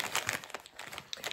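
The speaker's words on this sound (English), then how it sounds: "Sorry for any crinkling as I'm pulling it out." Plastic and paper wrapping from a wax melt order crinkles in short irregular rustling bursts as items are pulled out of the package, close and moderately quiet, with no talking.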